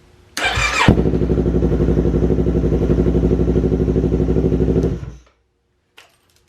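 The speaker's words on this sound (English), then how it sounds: "I'm gonna go ahead and start the bike just for a few seconds and then turn it off." A motorcycle engine, just fitted with a new fuel filter, cranks and catches with a loud burst, then idles in a steady close, throbbing putter for about four seconds before being switched off, leaving near silence.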